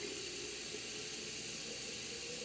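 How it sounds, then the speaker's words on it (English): A glass jar filling with water from a tap, heard as a steady, close rushing hiss that runs unbroken throughout with no talking. "I'm going to fill the jar up with water."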